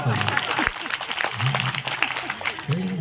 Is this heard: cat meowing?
no